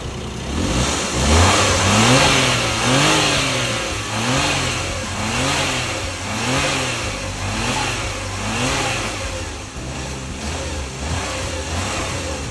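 A Suzuki Wagon R engine with its stock air filter, engine bay open, is revved repeatedly in a steady rhythm, rising and falling about a dozen times over a low idle, loud and close.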